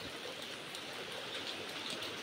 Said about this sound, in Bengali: মানে সেই রকম শো শো করে শব্দ বৃষ্টি